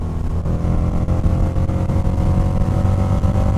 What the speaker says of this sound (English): The motor is so well balanced that I'm just feeling these teensy tiny little pulses through the bars